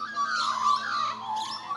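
An Australian magpie sings a continuous, fluting territorial warble that rises and falls in clear tones, fairly close and alone.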